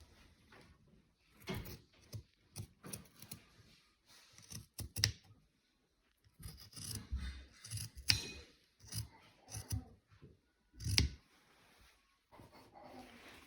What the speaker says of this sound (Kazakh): Осы жерде бірден мойын ойындысын қазір қиып аламыз.